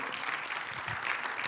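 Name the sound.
church congregation applause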